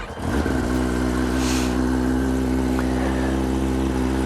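A 2021 Kawasaki ZX-10R with an Akrapovic slip-on exhaust and link pipe, catalytic converter removed, starts up and settles into a loud, steady, close engine drone with a slight rise in revs.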